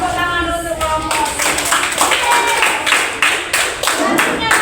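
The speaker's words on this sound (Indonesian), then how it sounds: "Tepuk tangan untuk kelompok." Students in a classroom clap together for a class group, a steady patter of many hands with children's voices talking and calling over it throughout.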